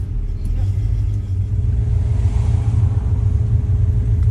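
A car engine rumbles steadily and close by as the car is shifted through reverse and neutral into drive and pulls away during The Great Race 2025 road rally, with a low, even drone throughout.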